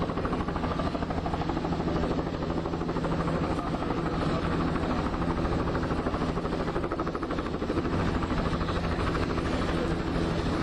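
Helicopters fly overhead in New York, a steady, loud rotor drone that keeps going without a break and sounds alone, with no voices.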